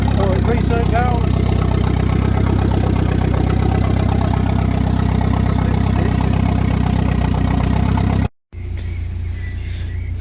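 A 1992 Volvo 460 turbo engine idles steadily up close with a low, even throb and some mechanical clatter, a brief cut near the end, then the idle resumes.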